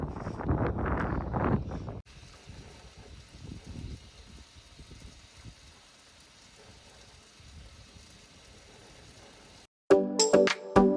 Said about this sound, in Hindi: इतनी तेज़ हवा है कि बस पूछो ही मत।